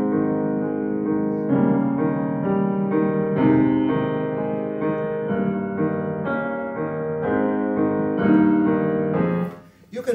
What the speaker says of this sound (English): in the second movement of Beethoven's Pathetique Sonata, if you didn't want it to sound like this, all jumbled together